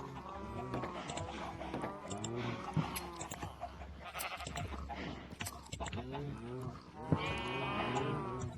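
Sheep in the Minecraft survival game bleat repeatedly in short wavering calls, several overlapping across the stretch, fairly close and clear, with someone talking intermittently between them.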